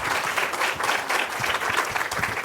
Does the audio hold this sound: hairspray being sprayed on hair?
no